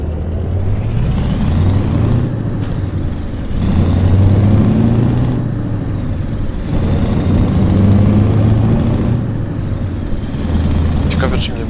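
Scania 4 Series 164L V8 truck engine in Euro Truck Simulator 2, a heavy vintage rig with manual gearbox hauling a 21-ton excavator, droning low and steady throughout with gear-change dips, while someone talks over it.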